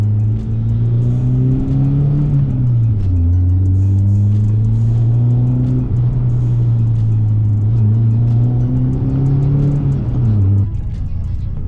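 A roughly 30-year-old minitruck with cantilever suspension drones along at a strong, steady engine pitch, dipping briefly as the gears shift. Faint ticks from loose dash plastics sit beneath the engine.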